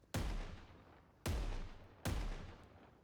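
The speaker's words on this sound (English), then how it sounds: "His gun is called Case Closed, and unlike many of the other shotguns inside of Deadlock" Abrams' Case Closed shotgun in the hero shooter Deadlock fires three loud, sharp blasts, each with a booming decaying tail, spaced about a second apart.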